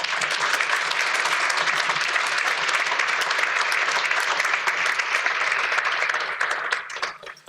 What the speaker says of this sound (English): can I ask everyone a round of applause for Paul Jones?